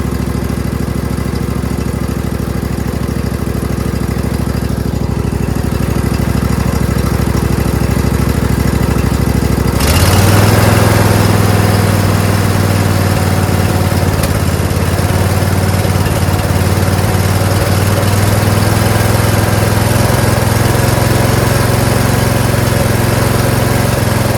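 A John Deere Z225 zero-turn lawnmower with a 20HP Briggs V-twin engine runs loud and close, a steady low idle that jumps to a heavier, throatier drone partway through and holds there.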